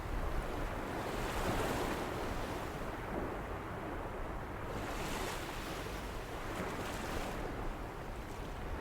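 Ocean surf rolls onto a sunset beach in a continuous, close wash of breaking waves with gentle swells in loudness and some wind, with no voices.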